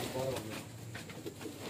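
Breeder pigeons of the Parwazi type coo softly in a short stretch, a low murmuring call close by with some background chatter mixed in.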